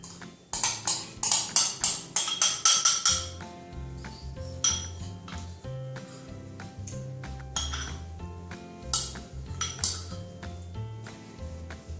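Potato salad with tuna and mayonnaise being mixed in a bowl, a steady run of close clinks and scrapes of a utensil against the dish, loud and rhythmic at first, then softer and more scattered.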